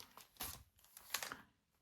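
Packaging from a parcel of craft stamps and stencils rustles and crinkles as it is unwrapped, with quiet, close, irregular bursts of crackling and short pauses between them.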